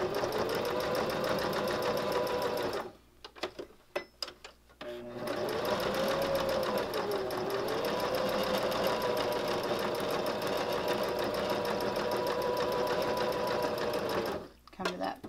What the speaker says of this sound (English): I don't have to take it out of the machine, and then just do another heart shape right inside that stitching.